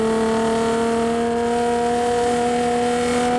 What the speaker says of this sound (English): The Monza, however, sounds healthy enough.